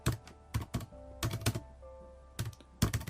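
Keystrokes on a Raspberry Pi 400's built-in keyboard come in short clustered bursts of sharp clicks, fairly close and with pauses between the groups.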